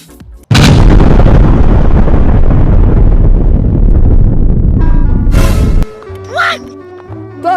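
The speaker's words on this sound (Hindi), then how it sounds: "तो दोनों बम फट चुके हैं" Two large rope bomb firecrackers explode at once in a huge, distorted blast that roars continuously for about five seconds outdoors, then cuts to quieter background noise with faint voices.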